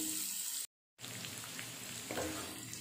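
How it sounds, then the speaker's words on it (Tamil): Cut radish frying in a pan on a medium flame makes a close, steady sizzle and crackle, broken by a brief silent gap near the start. "அடுத்து நம்ம கட் பண்ணி வச்சிருக்க முள்ளங்கியை சேர்த்துக்கலாம்."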